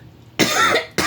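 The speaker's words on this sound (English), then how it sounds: "I do have a little cough, and I do apologize." A person coughs twice close to the microphone, a sharp, full burst followed a moment later by a second shorter one, in a quiet room.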